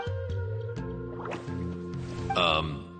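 Soft wet drips and squishes from a water droplet creature in the video game Genshin Impact, set among chiming tonal game effects with a brighter sparkling burst near the end.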